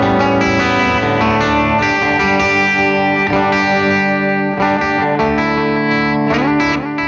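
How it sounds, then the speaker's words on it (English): Electric guitar played through heavy echo and effects, sustained chiming chords with repeats trailing behind each strum, loud and dense throughout with no talking. "I play with a lot of echo like that"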